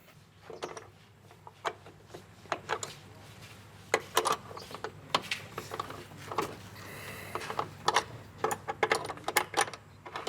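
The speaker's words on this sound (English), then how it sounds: "The company quarters are secured with a Roman lock, known as a lock and sliding bolt." A Roman-style lock with a sliding bolt is worked by hand, giving a run of irregular metallic clicks, scrapes and knocks at close range over a low steady hum, with no talking.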